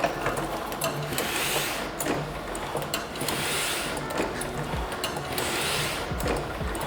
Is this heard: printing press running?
yes